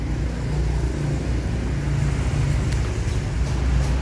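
A Sinar Jaya bus pulling in, a deep continuous engine rumble with road and traffic noise, steady and fairly loud throughout, with no talking.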